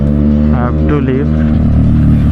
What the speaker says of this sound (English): so I'm just revving the bike.